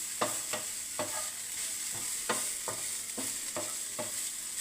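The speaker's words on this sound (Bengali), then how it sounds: "একটু ভেজে নেবো ভালো করে লাল করে ঘি দিয়ে" Grated carrot frying in ghee for carrot halwa, a constant bright sizzle broken by a regular series of scraping stirs, about two per second, close and clear with no talking.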